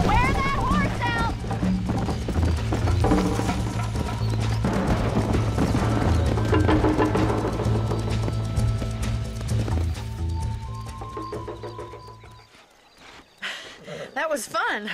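Horse hoofbeats gallop in the Western video game Red Dead Redemption, a steady clip-clop rhythm mixed with a whinny, music and ongoing talk, ending with a brief pause.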